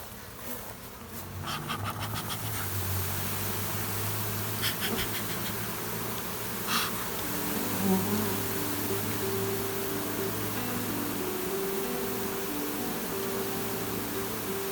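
Honeybees swarm in a steady, dense drone around a hive frame during a transfer into a nuc, the buzzing continuous and close with a few faint scratches and knocks over it.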